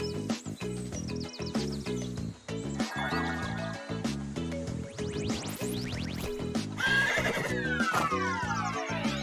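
Cartoon horse neighs ring out amid upbeat children's music, a clear whinny standing out alongside playful sliding effects and a faint clip-clop, with no talking.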